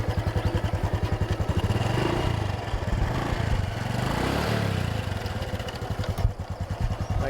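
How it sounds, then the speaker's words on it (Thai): A hand-started Honda Wave 110i motorcycle idles nearby with a steady, rapid thumping exhaust pulse. The engine note swells slightly in the middle as it revs a little, then settles back to an even idle. "สตาร์ทมือนะครับ คันนี้ โอเค อยู่สตาร์ทติดง่าย"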